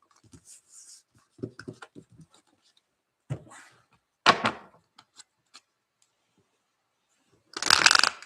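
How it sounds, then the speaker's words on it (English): Tarot cards are shuffled close by in short papery riffles and taps, with pauses between them and a louder burst of shuffling near the end; no one speaks. "Let me give these a shuffle."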